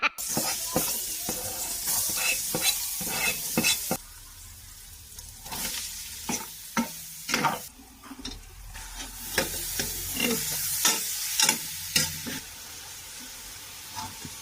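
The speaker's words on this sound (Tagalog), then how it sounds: "Kaldero na nga lang po ang nilutuan ko para isahang gisa na lang" Ingredients for sopas sauté in a cooking pot on a stove, with a continuous loud sizzle broken by repeated scraping stirs.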